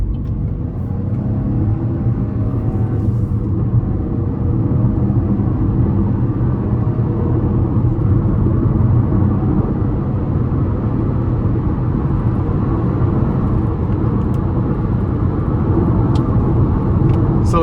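A 2025 Chevrolet Trax 2RS with a 1.2-litre turbocharged three-cylinder engine pulls hard up an interstate on-ramp, a steady, loud low engine drone and road rumble heard from inside the cabin, with no talking.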